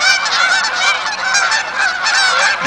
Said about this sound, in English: I have never seen this many Canada geese